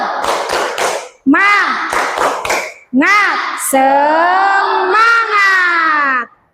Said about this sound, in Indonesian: Kemudian coba tepuk semangat